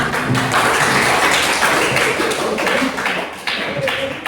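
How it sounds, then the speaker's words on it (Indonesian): Classroom applause for a fellow student: a dense, steady patter of many hands clapping together for about four seconds, loud and close, with no talk over it. "Tepuk tangan untuk temennya."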